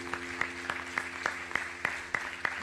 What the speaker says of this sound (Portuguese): Aplaude a Deus por isso.